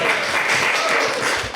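An audience claps briefly at a community conversation about homelessness in Eureka, California, producing a short, dense patter of applause that fades slightly at the end.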